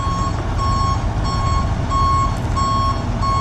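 A salvage tow truck backing up sounds its reversing alarm, a loud, regular series of high electronic beeps repeating about every half second over a low diesel engine rumble.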